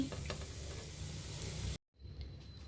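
Pasta is stirred in a hot pan with garam masala and turmeric, making a soft, continuous sizzle with scraping stirs. After a brief cut of silence it comes back quieter.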